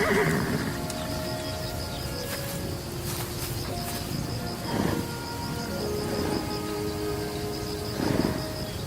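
Zebras in a small family group give several hoarse, braying whinnies, spaced a few seconds apart, over a steady outdoor background of insect chirring.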